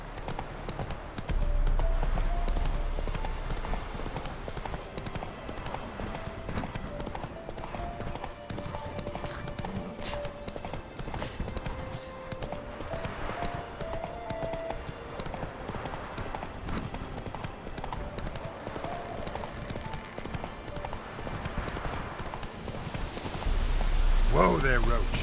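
Hooves of the horse Roach clop in a steady galloping rhythm throughout in The Witcher 3: Wild Hunt, loud and close, with a brief whinny. Someone speaks over the hoofbeats at times.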